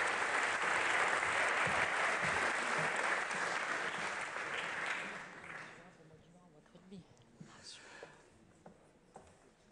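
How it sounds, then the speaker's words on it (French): Applause at the Fondation du Rein 2023 gala, a dense sustained clapping that fades over about five seconds into scattered claps and murmur. "sous vos applaudissements"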